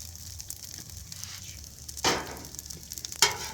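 Steady sizzle of food frying on a 36-inch Blackstone griddle, with two sharper bursts of crackling as ingredients hit the hot surface; moderately close and fairly quiet, with no talking.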